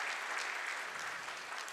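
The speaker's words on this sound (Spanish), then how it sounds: "Un aplauso más para la maestra Bodayu." Audience applause at a Bible seminar honoring a music school teacher, an even, sustained patter of many hands, somewhat distant and soft.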